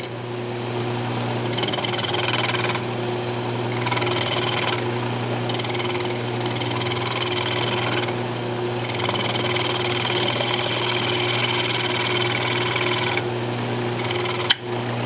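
A wood lathe spins a wooden coffee cup blank as a tool tapers its outer wall, producing a continuous loud mechanical drone with recurring brighter cutting passes that come and go, and no talk.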